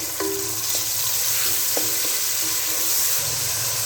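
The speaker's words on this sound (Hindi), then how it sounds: "अब हम इसके अंदर डाल देते हैं प्याज। प्याज को हम कर लेंगे ब्राउन।" Onions sizzling in hot oil in a pan, a steady close fry with a few brief clinks and scrapes of stirring over the continuous hiss, no voices.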